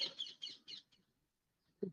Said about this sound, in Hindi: इस पंछी की जो आवाज है आसपास, वो सब जगह व्याप्त है।